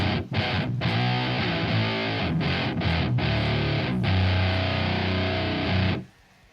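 A guitar pushed through a Doomagorgon fuzz pedal mixing HM2 grit with hyper fuzz blares a dense, saturated wall of chords with a few quick chops, sustained loudly then cutting off near the end.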